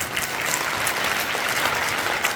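Loud, dense applause from students in a school classroom, a continuous burst of clapping hands with no voices over it.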